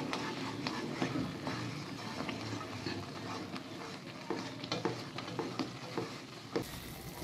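Atta halwa of wheat flour being stirred in hot oil in a pan: a steady sizzle with repeated scraping strokes of the spoon, close and continuous, no voices.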